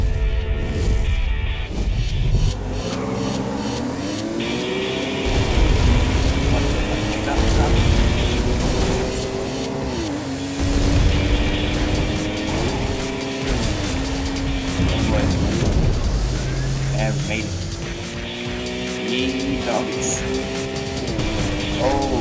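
Race car engine in Ridge Racer driving steadily, its tone rising and falling through gear shifts, loud and continuous over game music, with a voice talking over it.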